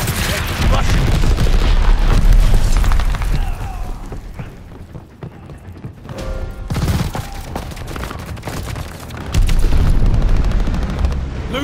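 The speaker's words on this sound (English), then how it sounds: "Allies called a bombing run. Incoming." Bombing-run explosions rock a Call of Duty: Vanguard battlefield, loud booms rolling under rapid gunfire bursts, easing to a lull midway before another heavy wave of blasts and shots swells near the end.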